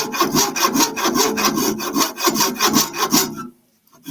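A hand saw cuts through a wooden woodturning blank, close and loud, with steady rhythmic back-and-forth strokes for about three and a half seconds before stopping.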